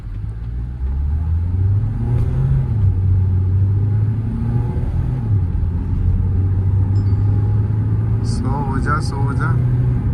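A diesel SUV accelerates hard in a steady, loud drone. Its low engine note climbs and dips as it runs through the gears, with voices speaking over the engine throughout and a few brief high chirps near the end.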